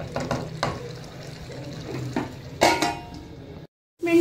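A spoon clanks and scrapes around a pan of liver (kaleji) as it is mixed, with sharp metallic knocks, then a brief total drop-out before clatter resumes; close, no talking.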